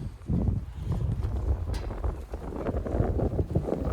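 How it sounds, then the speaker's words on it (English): Steady wind buffets the microphone outdoors in an open pasture, with low, rumbling gusts, continuous and fairly loud throughout, with no voices. "It's a little windy out here."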